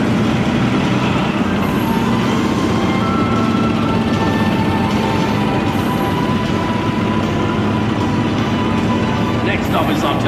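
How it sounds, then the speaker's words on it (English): A High Mobility Artillery Rocket System vehicle rolls past in a military parade, a loud continuous engine and tyre rumble with faint hiss and brief air-brake squeals, under a commentator's voice. "From the artillery formation, we have the High Mobility Artillery Rocket System"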